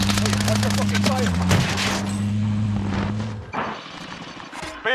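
Call of Duty Warzone gunfire crackles in rapid bursts of sharp shots over a steady electronic hum, with a voice speaking between the shots before the firing fades into quieter rustles.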